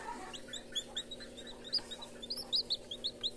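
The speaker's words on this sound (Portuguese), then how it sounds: "eu quero mostrar o pintinho que já saiu dali" A newly hatched chick fresh from an egg incubator on a small farm peeps in rapid, high repeated chirps, close and fairly faint over a low steady hum, with no talk.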